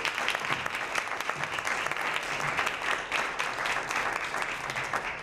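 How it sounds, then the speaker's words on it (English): Audience applause for candidates at a community candidates forum, a continuous wash of many hands clapping, even and sustained for about five seconds at moderate volume, with no talking over it. "Can we give them a round of applause, please?"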